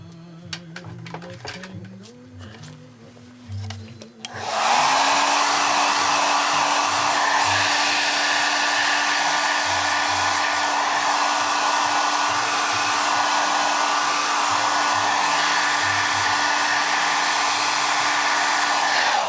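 A heat blower dries glue on a Wurlitzer 903 jukebox build. It switches on abruptly after a few seconds of quiet background and then roars steadily and loudly for the rest of the clip.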